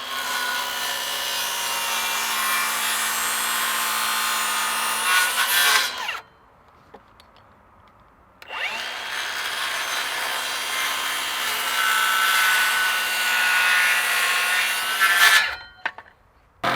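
Handsaw cutting wood on a sawhorse during a dog house build: two long stretches of close, steady rasping strokes, separated by a quiet pause, with a short burst of sawing at the end.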